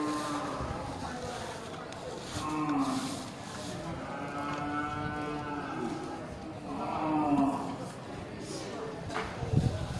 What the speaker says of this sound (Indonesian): Sapi Aceh.